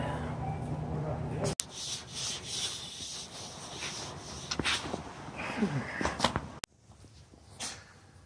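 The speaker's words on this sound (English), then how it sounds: "I got half of the staining done on one side of the boards." Steady rubbing of a stain-soaked cloth across 12-foot wooden planks, continuous and close, with a brief pause and a few sharper scrapes near the end.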